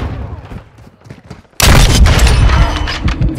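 A sudden loud burst of gunfire in a multiplayer shooter game erupts midway and sustains to the end, following a quieter stretch of muffled game sounds.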